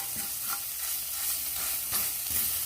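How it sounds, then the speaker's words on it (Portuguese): Leftover garlic browns in a small amount of oil in a pan, a soft continuous sizzle with a few scraping stirs of a spoon, heard up close with no voices. "Um pouquinho só de óleo, só para dourar o restante do alho"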